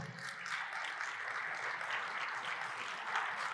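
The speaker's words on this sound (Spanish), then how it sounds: "demos un aplauso al Señor" A church congregation breaks into sustained applause, a dense steady wash of clapping from many hands at moderate distance with no talk over it.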